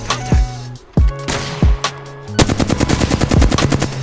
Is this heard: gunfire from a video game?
yes